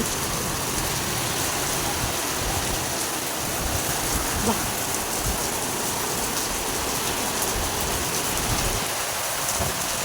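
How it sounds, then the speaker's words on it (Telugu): Heavy rain falls in a loud, unbroken roar, dense and constant throughout with no breaks. "ఈరోజు చూడండి అసలు ఫుల్ వర్షం"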